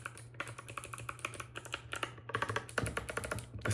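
Rapid, sharp clacking keystrokes come from a mechanical numpad fitted with swapped keycaps, typed close up in quick irregular bursts with a faint steady hum underneath.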